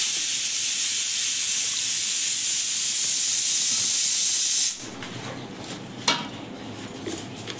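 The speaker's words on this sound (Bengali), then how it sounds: "আন্দাজ মতো জল দিয়ে দেবো।" Water poured into a khichuri pot gives a loud, continuous hissing rush of steam for several seconds, then cuts off to quieter clinks and a sharp knock of the pot.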